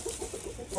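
A chicken clucking close by, a quick series of short soft clucks in an uneven rhythm over a hissy background, with no one speaking.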